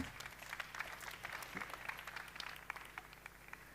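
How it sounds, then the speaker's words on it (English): Audience applauding a speaker at an advanced dairy farming seminar held live at EuroTier 2022, steady dense clapping across the whole stretch at moderate distance, a faint voice underneath. "please, a round of applause for Valentin."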